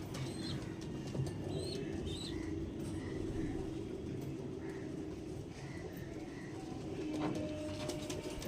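Soft, low coos from pigeons repeat now and then over a steady murmuring background, with a few faint chirps higher up.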